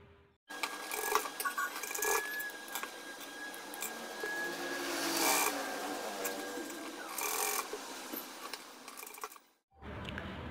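A sewing machine stitches a neck pattern onto a single-shade top, giving a steady, close mechanical whir with light clattering that runs for most of the clip before stopping abruptly near the end.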